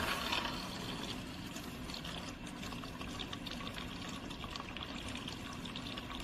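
Water sprays and trickles steadily from a floor steam cleaner used on a gym floor, a faint continuous hiss with no speech over it.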